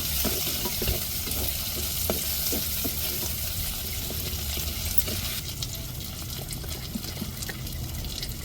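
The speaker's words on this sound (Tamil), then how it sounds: "இப்போ தக்காளி சேர்த்துக்கிடுவோம். தக்காளி நல்லா வதங்கட்டும்." Tomatoes sautéing in a pan while cooking fried goat brain, a constant broadband sizzle with scattered stirring scrapes and clicks, steady and close throughout with no talking.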